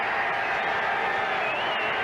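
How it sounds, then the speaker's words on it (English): A 1978 football stadium crowd, Seattle at Oakland, roars in a dense, continuous wall of cheering that stays loud and steady throughout, with no break. "Crowd roaring"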